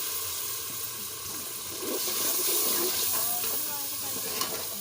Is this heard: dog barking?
no